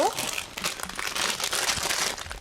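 Plastic bags of pieces from the LEGO Ideas Typewriter set 21327 crinkle and rustle continuously, close up, during unboxing.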